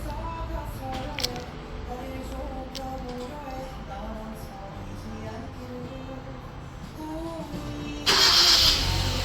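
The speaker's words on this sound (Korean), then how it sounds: "원격 시동은 잠긴 버튼 2초" A Hyundai Avante MD idles after a remote start triggered through a Mykey Classic aftermarket alarm, a quiet steady engine hum with faint background talk, ending in a sudden louder hiss-like burst in the final second.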